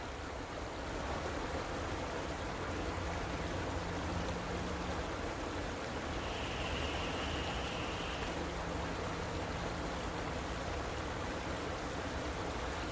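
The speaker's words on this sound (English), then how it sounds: "I don't talk a lot, so you'll be hearing a lot of water running." A river runs steadily in winter catfish country, a continuous broadband wash of flowing water that stays even and fairly close throughout, with no talking over it.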